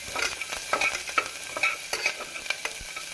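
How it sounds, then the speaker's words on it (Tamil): Steady sizzling of onions and curry leaves frying in hot oil for sambar, with intermittent scraping and stirring clicks from a utensil against the pan. "வெங்காயம் கருவேப்பிலை போட்டு நன்றாக வதக்க வேண்டும்"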